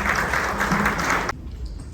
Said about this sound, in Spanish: Recibamos con un fuerte aplauso a Horacio Urbano.